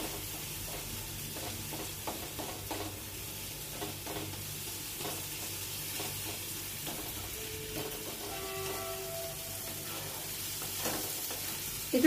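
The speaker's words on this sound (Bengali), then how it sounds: "এবার এই মশলাটাকে ভালো করে কষতে দেবো।" A spice mixture with chopped onion is stirred and fried in a pan, a continuous low sizzle with scraping stirs and faint clinks, steady throughout and unaccompanied by talk.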